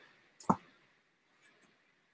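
Martha Stewart shredding scissors snip through a paper strip in one sharp, close crunching cut, followed by two faint clicks as the blades move, with no talk.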